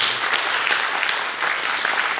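Audience applause at a dance school's 35th anniversary opening event, a dense, loud wash of clapping sustained from start to finish.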